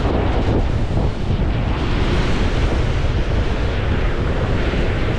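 Strong wind roars steadily and loudly across a beach, a dense broadband rush with no breaks that may carry surf beneath it.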